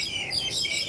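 A bird chirps amid the background of a Hong Kong hiking trail, with faint high tweets over soft ambient noise and no talking.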